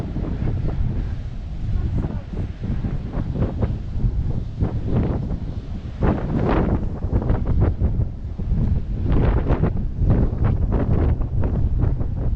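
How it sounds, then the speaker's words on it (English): Strong gusty sea breeze in Rhyl, North Wales, buffets the microphone with a continuous low roar and repeated rumbling blasts, loud and close throughout. "there is quite a strong sea breeze"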